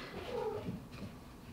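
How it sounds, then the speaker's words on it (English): A pet cat meows in a hamster-keeping household, a drawn-out, wavering cry that rises and fades over about a second, fairly close and moderately loud against a quiet indoor room. "And Sadie won't stop meowing."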